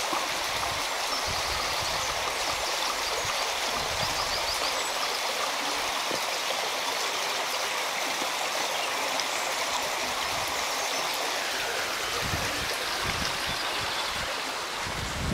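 A stream in Edale flows steadily with a broad, continuous rushing and gurgling, no voices, holding an even level throughout.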